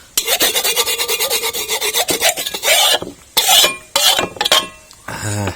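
A utensil scrapes a cooked egg and egg-yolk shrimp-bait mixture from a pan in a fast run of loud, close rasping strokes, followed by several separate, heavier scrapes.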